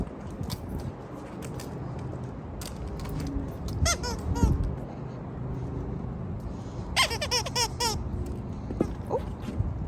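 A small bird squeaks in short, sharp, high chirps that come in scattered bursts, close by over a rustling, handling-noise background.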